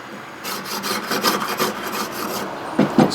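A blade scrapes along a thin wooden slingshot flechette in a run of quick, close, rasping strokes, ending with two louder scrapes.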